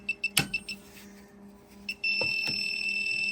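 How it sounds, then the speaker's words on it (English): A circuit breaker finder tool gives a series of short regular electronic beeps, a brief click, then a sustained steady tone, heard alone at close range. "We're here testing this, and we're getting just regular beeping"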